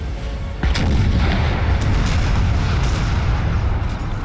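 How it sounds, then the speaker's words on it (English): French artillery fires in the Napoleon: Total War battle game, heard as a sudden heavy boom followed by a dense, continuous roar of distant cannon fire and explosions. "So this artillery from the French is relentless."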